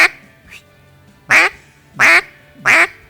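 A duck call blown to imitate a younger duck, several short bursts: a faint first note, then three loud, evenly spaced quacking calls, close and alone with no talk.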